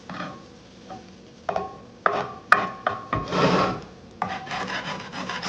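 A utensil scrapes and pushes a rolled Japanese omelette across a pan, giving a series of close, rough rubbing scrapes and knocks with one longer drag in the middle.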